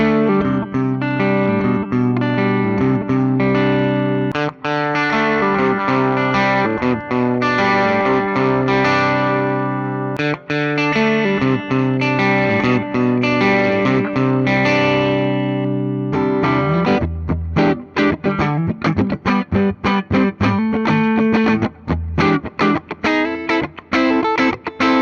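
A 2025 Gibson Les Paul Music City Special electric guitar plays sustained chords through distortion and chorus effects, followed by quicker, choppier picked notes near the end.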